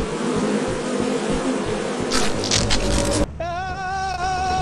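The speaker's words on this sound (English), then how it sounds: "How are you gonna get rid of the bees?" Bees buzzing in the video game Lethal Company, a loud droning hum that swells and grows harsher partway through, then gives way to a wavering, whining buzz, with no talk over it.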